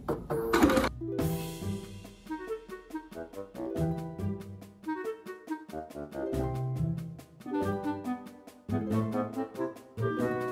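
A sewing machine stitching across a fabric tote bag, its needle ticking in fast, even runs that stop and restart several times, close and clear with no talk.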